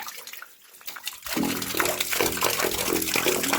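Water drains down into an underground well pit during repair of a frozen water line, a steady rushing, gurgling flow that starts abruptly after a quiet second and continues close and fairly loud.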